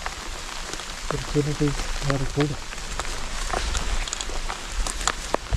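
Heavy rain falls outdoors beside an old rock wall, a steady, loud hiss with scattered close drop taps running throughout, while someone speaks briefly over it.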